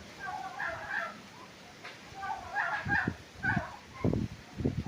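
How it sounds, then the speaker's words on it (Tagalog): Turkeys gobbling and ducks calling nearby at a rural property in Cavinti, Laguna, several short bursts in the second half over a faint background. "mga pabo yan."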